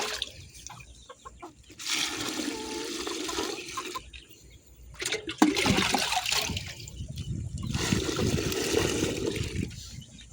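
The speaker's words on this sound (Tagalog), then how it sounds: "Lagyan natin ng tubig." Water pours from a farm drum into molasses-sweetened feed for Muscovy ducks and native chickens, coming in a few splashing bursts separated by short pauses, with clucking fowl nearby.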